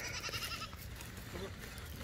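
Goats fed on alfalfa bleat close by on a farm, a couple of short nasal cries over a busy background of rustling and movement.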